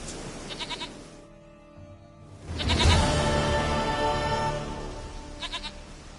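A goat bleats in a video game, a wavering nasal cry heard in two spells separated by a quieter pause, the second longer and louder, close and alone.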